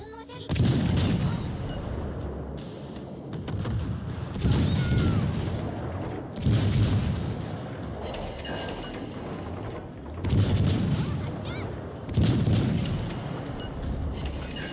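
Heavy naval guns boom in World of Warships: Legends, big salvos and shell impacts arriving in five or six loud bursts with rumbling gaps between, close and dominant with little else over them.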